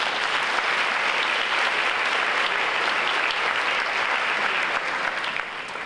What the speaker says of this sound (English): an applause for the board of this organization.